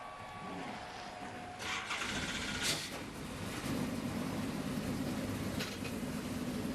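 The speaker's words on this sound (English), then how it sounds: "drivers, start your engines!" Race car engines fire up at the start of the Love's RV Stop 225 truck race, a broad roar rising and swelling loudly after a quieter crowd-filled opening and holding steady to the end.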